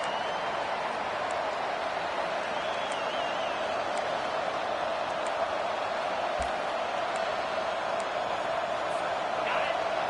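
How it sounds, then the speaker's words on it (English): A video game stadium crowd at a college football game roars steadily throughout, a dense, unbroken wall of noise with no single voice standing out. "listen to this crowd noise. This stadium is vibrating."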